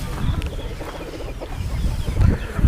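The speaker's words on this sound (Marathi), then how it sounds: "असे कोंबड्या बाहेर आहेत" Free-range chickens on a poultry farm cluck in short scattered bursts against a busy outdoor background, close and moderately loud.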